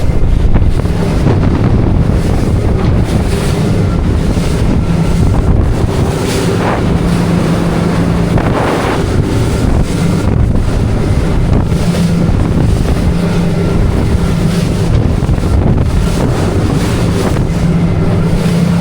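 A 23-foot Albury boat runs at about 29 to 30 mph through rough beam seas. Loud engine drone mixes with constant rushing wind buffeting the microphone and repeated splashing hull slaps for the whole stretch, with no talking.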